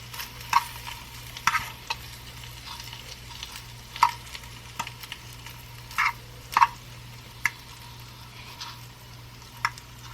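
Vegan sausages fry in oil in a pan over moderate heat, a faint, even sizzle under scattered sharp clicks and taps of a utensil turning them, with no talking.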